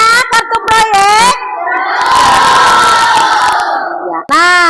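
A primary school class cheers and claps together, a loud sustained burst of children's voices and applause that swells over a few seconds, bracketed by a teacher's sing-song speaking before and after.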